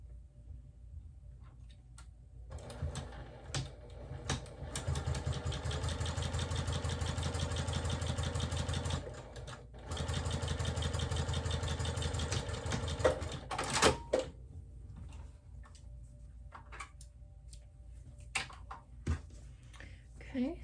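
A sewing machine stitches quilt binding strips in two steady runs of rapid, even mechanical whirring separated by a short pause, with soft clicks and handling noises before and after.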